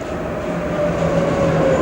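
A 1991 Budapest tram runs steadily with a continuous near rumble and rail noise, a faint high tone rising above it, in a nearly empty car.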